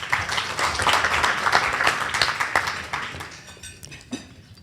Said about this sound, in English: Would we please give him another round of applause?